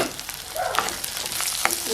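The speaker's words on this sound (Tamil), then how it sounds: "இது கொதிக்கட்டும் பொரியட்டும்" Steady sizzling of onion stalk curry frying and boiling in a hot pan, with crackles and small pops throughout, close and continuous.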